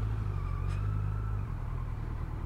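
A stock, recently serviced Triumph Street Triple motorcycle engine rumbles with a deep, steady drone, close and continuous with no one speaking.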